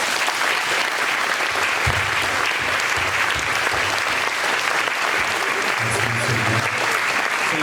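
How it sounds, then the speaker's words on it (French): An audience applauding at a mayor's New Year address to residents in Coulaines, sustained dense clapping from a crowd filling the room, with a voice briefly heard beneath it. "vous pouvez les applaudir."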